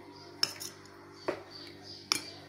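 A metal utensil scrapes and clinks against a bowl while stuffing for Algerian bakbouka tripe is mixed, four sharp knocks spread across a quiet background.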